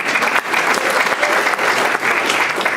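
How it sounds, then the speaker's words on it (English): A school audience of College of Marin students claps together in a steady, dense round of applause that fills the room at close range, sustained and unbroken. "give yourselves a big round of applause"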